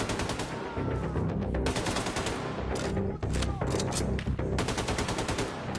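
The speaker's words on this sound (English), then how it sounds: "Ni lah shotgun ni." A shotgun fires in the video game Wolfenstein amid heavy in-game combat. Dense, loud bursts of gunfire repeat rapidly almost without pause, and brief gaps break up the volleys.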